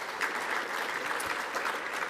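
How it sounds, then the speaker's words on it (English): Faint, steady applause from an audience at a VFL best and fairest awards night, even and continuous throughout with no talk. "I think that deserves a round of applause."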